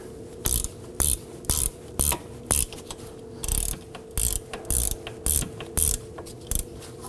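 Ratchet wrench tightening the hub assembly bolts on a 2001-2009 Volvo S60 2.5L FWD rear wheel, heard as about a dozen quick bursts of close metallic clicking in irregular groups, with no talk.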